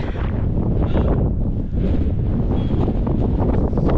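Strong wind buffets the microphone at an abandoned acid factory, a loud, continuous roaring rumble with gusty swells throughout and no speech.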